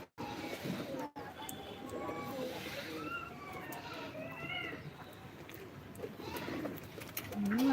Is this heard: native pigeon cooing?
yes